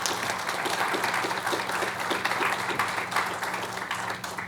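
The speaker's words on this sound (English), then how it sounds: "So give yourselves a round of applause." Audience applause at a Portsmouth, Virginia fire department youth academy graduation, sustained and even clapping from a crowd, moderately close, with no one talking over it.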